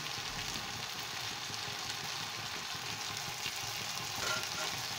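Tomato frying in a pan with turmeric being added sizzles steadily, a constant bright hiss with faint stirring underneath.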